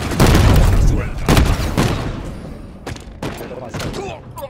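Gunfire in the Halo Infinite multiplayer video game comes as heavy booming shots, a loud burst at the start, then a few sharper cracks later as the noise fades, with excited voices shouting over it.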